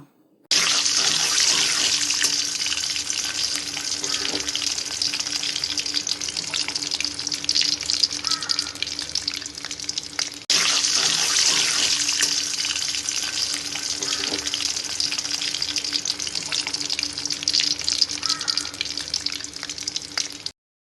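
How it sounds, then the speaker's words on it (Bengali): Ginger and garlic paste with spices fries in a pan for a chicken bhaji, a dense, continuous close sizzle with faint stirring scrapes, unbroken for the whole stretch. "আদা ও রসুন বাটাটা লাল লাল করে ভেজে নিলাম"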